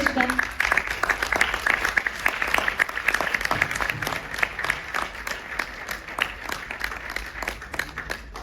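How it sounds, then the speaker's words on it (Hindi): Steady audience applause fills a meet-up hall, dense and continuous clapping from a sizeable crowd that holds throughout without a break. "जब आपकी तालियां सुनते हो ना तो सुकून मिल जाता है"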